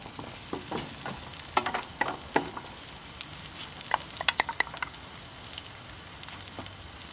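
Carrots and chopped celeriac sweat in a roasting pan with a steady, close sizzle, peppered with small crackles and pops throughout.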